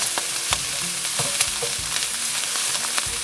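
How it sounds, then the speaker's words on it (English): Chopped carrots stir-fried with green peas in a pan for crab fried rice, giving a close, steady sizzle broken by repeated scraping strokes of a stirring utensil. "I'm going to also put like half a cup of chopped carrots in. And stir."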